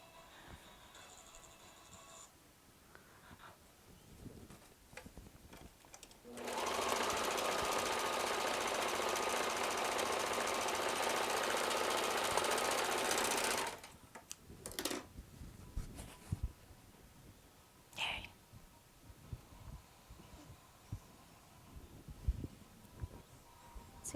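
Sewing machine stitching a seam on a thrifted patchwork coat, a steady, loud continuous whirring run of about seven seconds, framed by quieter handling clatter and rustling before and after.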